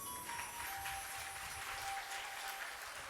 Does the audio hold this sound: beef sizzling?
no